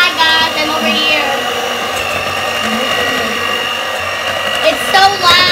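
An electric mixer whirs loudly and steadily through chocolate cake batter, a dense, close motor drone that holds throughout with a slight rise near the end, while people talk over it.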